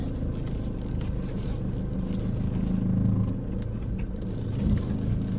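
Van reversing into a parking space, a close, low engine rumble with soft scrapes and creaks, fairly steady throughout.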